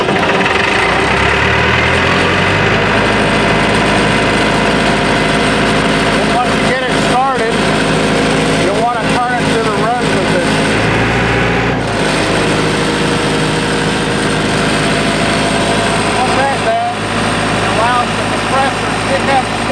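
A diesel air compressor engine cranks and starts, then idles with a loud, steady, rumbling drone and rattling vibration close by, broken by a few brief dips.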